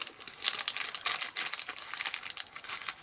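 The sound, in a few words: scissors cutting the top off a treat bag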